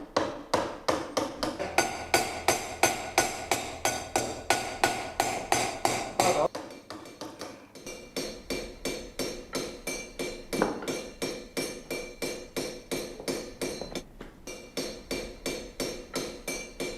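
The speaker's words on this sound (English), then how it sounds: "Johannes Jansen inspects and fine-tunes the box body on a domed anvil. Minor irregularities along the rim are hammered and ground back" A hand hammer strikes a copper box rim on a domed anvil in a traditional German craft workshop, giving steady, evenly spaced metallic blows with ringing tones. A short pause comes midway, then the regular tapping resumes.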